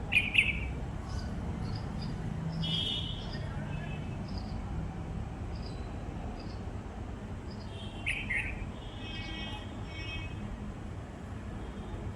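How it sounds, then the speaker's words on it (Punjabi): Sparrow chirping at a home water spot, several short high chirps in scattered bursts over a low rumbling background of distant traffic. "ਉਹ ਚਿੜੀ ਆ ਗਈ ਨਾਲ ਹੁਣ"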